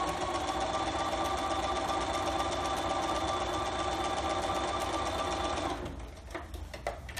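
A sewing machine stitches across quilt seams in a steady, rapid mechanical whir for several seconds, then stops, leaving a few soft clicks and handling noises close by.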